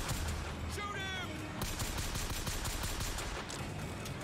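Gunshots in Bioshock Infinite, a fast run of close, punchy shots that ends in a rapid burst, over a dense battle din with voices underneath.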